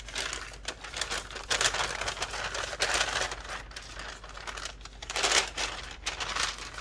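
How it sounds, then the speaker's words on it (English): A paper bag laid out flat is crinkled and smoothed by hand, giving close, irregular bursts of crisp rustling and crackling that rise and fall throughout. "we're going to lay the paper bag out as flat as we can"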